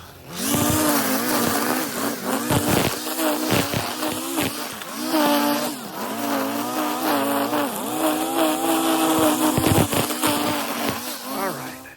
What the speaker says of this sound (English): It is a little bit messier with the weed eater, as you could probably tell.